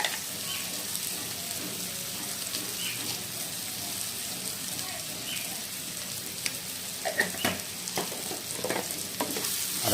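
Tomatoes with salt fry in oil for an egg curry, giving a soft, continuous sizzle with occasional stirring scrapes and clinks near the end, fairly faint and without talk.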